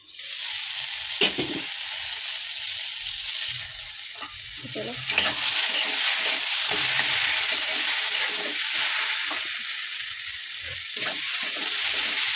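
Fish curry with tomatoes sizzles steadily in a pan, with a loud continuous frying hiss and occasional stirring scrapes, growing louder partway through.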